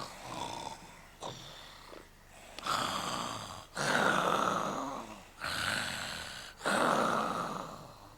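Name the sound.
children imitating the wolf snoring loudly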